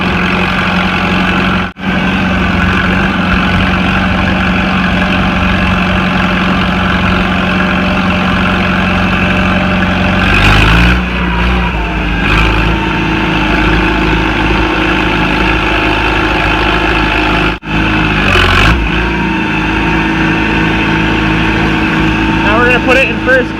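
Farmall Super C tractor engine running steadily, a loud, continuous low rumble close by with a brief dip and some mechanical clunks partway through, under occasional speech.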